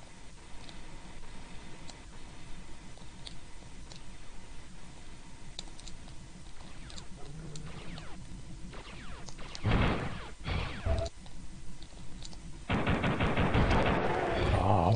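Rapid gunfire bursts from a weapon in Duke Nukem 64 on the Launch Facility level, a few loud clustered volleys near the end over a steady game background hum.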